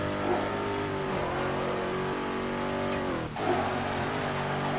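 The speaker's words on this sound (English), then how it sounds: "And also using my first shot of nitrous, because that is how I get the head start." A tuner car's engine revs hard and climbs under a nitrous boost in Midnight Club 3: DUB Edition Remix during an Atlanta street race. The engine roars steadily and close, then dips briefly before surging again.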